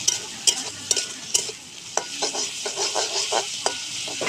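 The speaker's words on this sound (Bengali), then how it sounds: "এই যে দেখুন ভালো করে নাড়াচাড়া করছি।" Garlic paste and spices fry in a pan while being stirred, producing a steady sizzle punctuated by regular sharp taps and scrapes of a spatula against the metal; no one speaks.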